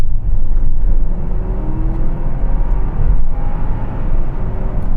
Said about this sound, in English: Here we go then, let's floor it.